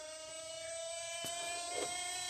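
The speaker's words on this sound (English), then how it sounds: "You'll hear it start to wind up. It pressurizes the lines" A car's power steering pump winds up as it pressurizes the lines, heard as a steady high whine with a sustained tonal hum and faint clicks, low fluid level noted.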